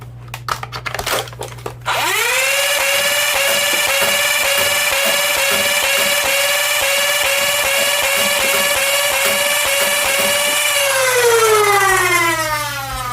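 A Mini Stryfe flywheel foam-dart blaster running on a 3S LiPo battery: a few sharp clicks, then the motors spin up into a loud, steady rising whine lasting about nine seconds with rapid dart shots, before winding down.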